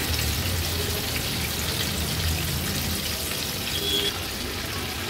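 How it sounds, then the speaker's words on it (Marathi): Pieces of fish shallow-fry in oil over a low-to-medium gas flame, giving a steady, close sizzle and soft crackle that runs evenly throughout with no voices. "गॅसची फ्लेम लो टू मीडियम वर ठेवून ह्या तुकड्या व्यवस्थित आपल्याला तळून घ्यायच्या आहेत।"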